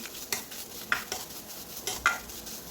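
Grated coconut is stirred in a pan, a few distinct scraping strokes of a spoon against the metal over a soft, low sizzle.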